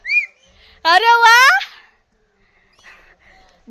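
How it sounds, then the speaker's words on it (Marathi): A single bright, warbling whistle rises and bends for about a second, close and loud, during an outing to a village goddess temple. Brief exclamations come just before and after it. "शिती वाजव शिती वाजव"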